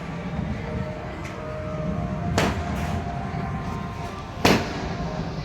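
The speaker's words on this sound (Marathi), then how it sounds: "हे झुंजारमध्ये फुटतात आपले फटाके" Festival firecrackers for Dussehra burst at a distance against steady outdoor background noise, with two sharp cracks standing out clearly and a fainter pop earlier.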